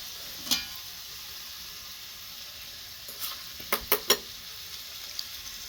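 Potato bhaji sizzles softly while frying on a mini stove, a faint steady hiss broken by a few light clinks and stirring scrapes near the end.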